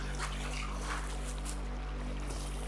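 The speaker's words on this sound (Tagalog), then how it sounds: "Dito talagang malakas yung ragasan ng tubig." Strong river current rushes through a rocky riverbed on the trail to Zamora Falls in Bulacan, a steady broadband wash of water that sounds moderately distant and fairly quiet, with a low constant hum underneath.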